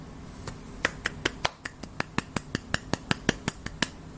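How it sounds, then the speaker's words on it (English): Finger snapping offered as a small round of applause: about twenty sharp, crisp snaps in a quick, fairly steady run, close and clear against a quiet room. "That's my little round of applause."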